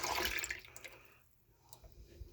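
Cannabis oil poured slowly through a funnel, a soft close trickle of liquid that is strongest at the start and then fades into quiet drips.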